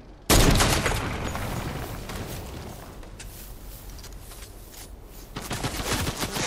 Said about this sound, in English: I'm gonna start shooting down the trees